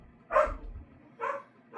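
Dogs bark twice at a moderate distance, two separated bursts with a quiet gap between, alone without talk.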